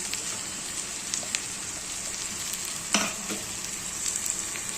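Stale bhakri crumbs fry in a hot pan with a steady broadband sizzle, with a brief louder stir-scrape burst near the middle and scattered light crackles throughout.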